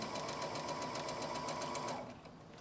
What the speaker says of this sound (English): And now I'm sewing 5/8 of an inch